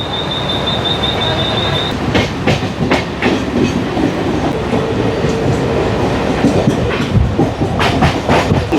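Mumbai CSMT–Khopoli fast local train pulling out of Dadar station, loud and close: continuous rumbling wheels with rhythmic clickety-clack over rail joints and a thin squeal, no voices.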